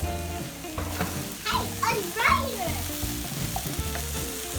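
Dried cranberries being stirred into turkey stuffing in a pan, a steady close sizzle with scraping spoon strokes and rhythmic clatter, busiest around the middle, with faint background voices.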